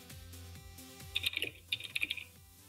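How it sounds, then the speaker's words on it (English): Quick, clicky bursts of typing on a computer keyboard, two short clusters of keystrokes in close range over a low background hum, with no speech. "How noisy are my keys when I type?"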